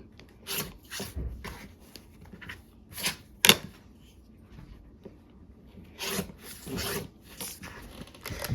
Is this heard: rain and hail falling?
no